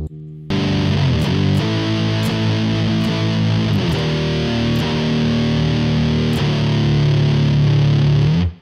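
Electric guitar running through a TONEX-style amp simulator on a distortion preset, with thick, saturated sustained chords and a few sharp pick attacks, loud and alone.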